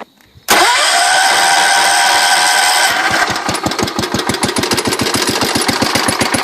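A John Deere 210 lawn tractor engine cranks and catches, then settles into a loud, steady idle with a regular thudding firing rhythm, close by and without talk.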